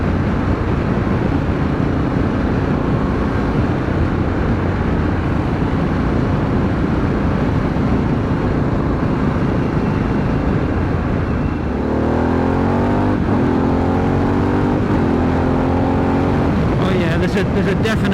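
Harley-Davidson Pan America adventure motorcycle in sport mode, a loud continuous engine drone with wind rush that rises in pitch as it accelerates late on, under a voice talking throughout.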